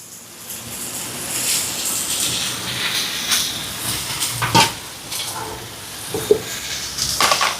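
A pot of curry being stirred after roasted ground spices are added, with a steady sizzling hiss and a few louder scraping knocks of the spoon against the pot, close and continuous.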